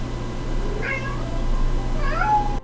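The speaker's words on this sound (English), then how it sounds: "I'm so sorry for any cat noises in the background." Cats meowing in the background, two drawn-out meows about a second apart over a steady low hum, with no talk.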